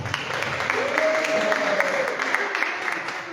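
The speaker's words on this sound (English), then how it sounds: "I hear somebody clapping." Scattered clapping from somebody in a political meeting held outside the usual auditorium, moderate and continuous under a murmuring room with a brief tonal sweep of voice.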